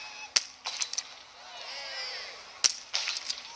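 Biathlon rifle shots at the shooting range of a women's mass start race at Holmenkollen: two sharp, fairly faint cracks about two seconds apart, each followed by a brief metallic clink.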